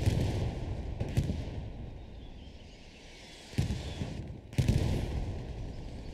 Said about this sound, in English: Artillery playing a crucial role in absolutely demolishing squads caught in the open